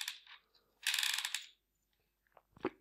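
FN P90 airsoft magazine wound by turning its front dial, a close burst of rapid ratcheting clicks followed by a few small mechanical clicks and a sharp snap, with no talking.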